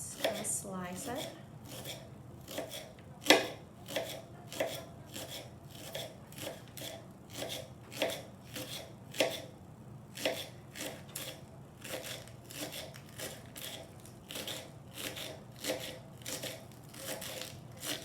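A knife slices through an ingredient for guacamole on a cutting board, a run of quick rhythmic rasping cuts, fairly close, with a person talking over them.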